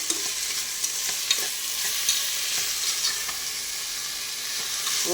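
Vegetables with salt sautéing in a pan for sambar rice, a steady close sizzle with scattered scraping stirs and small clicks throughout, no voices.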